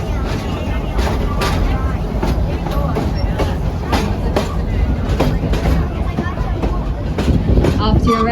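Busch Gardens Tampa Serengeti Railway park train rolling along, a loud continuous rumble with repeated clickety-clack wheel knocks, while a voice talks over it throughout.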